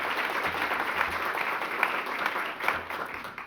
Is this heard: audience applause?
yes